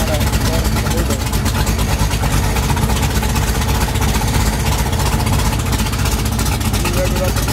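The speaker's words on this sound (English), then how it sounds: "You rev it up again? You rev it up like that?" Engine of a 1968 Chevrolet Camaro running loudly and continuously with a deep steady rumble, as people talk nearby.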